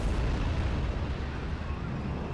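PIAT anti-tank rounds exploding in the World War II strategy game Steel Division: Normandy 44, a loud, deep, rumbling blast that stays heavy and continuous throughout.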